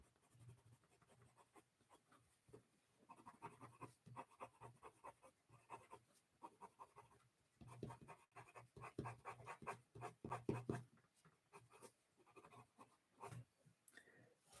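Colored pencils scratching across paper in steady, layered strokes of varying pressure while a mermaid and sea-creature illustration is colored in, close and clear with no talking.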